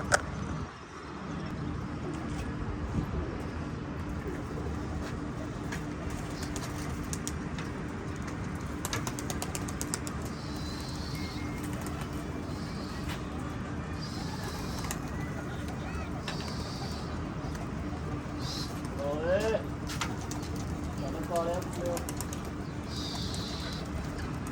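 Pigeons at a pigeon club, with soft intermittent cooing and bird calls over a steady outdoor background hum, moderately distant, while someone talks now and then.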